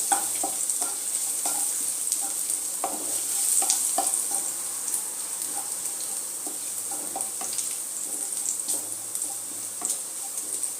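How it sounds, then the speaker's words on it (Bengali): Chopped garlic fries in hot oil over a low flame, a continuous bright sizzle with repeated soft pops and a few spatula taps spread across the whole stretch, heard up close without talk. "এর মধ্যে আমি একটু রসুন কুচি দিয়ে দেবো ফ্লেমটা আমি লো রেখেছি একটু রসুনটা একটু হালকা লাল লাল করে ভেজে নেবো"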